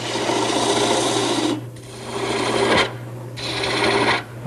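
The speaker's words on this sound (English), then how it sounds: "At this point, I'm starting to trim down the last 3 inches that becomes the dowel" A woodworking tool rasps steadily against a turning wooden bedpost, trimming the last three inches down to a two-inch dowel, producing continuous loud, close scraping in long strokes with brief pauses between passes.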